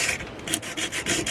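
Sanding a 1060 steel wakizashi sword blade by hand, a steady rhythmic rasping rub of abrasive on steel in repeated back-and-forth strokes, close and fairly loud with no talking.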